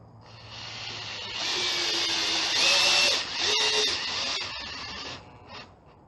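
A power tool, likely a drill or driver, runs on a loose UPVC door frame, whirring steadily and close for about four seconds with brief dips in pitch as it tightens, then winds down.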